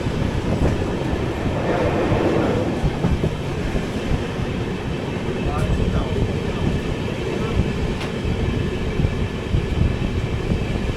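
An AC express train runs along a bypass line through a heavy industrial area, a continuous loud rumble with rhythmic clickety-clack from the wheels and some wind buffeting on the microphone.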